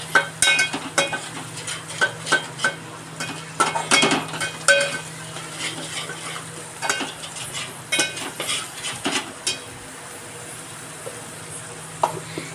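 Chicken gravy masala with red chilli powder is stirred in a pan, a spoon scraping and clinking in irregular strokes against the metal over a low sizzle, with a few quiet stretches.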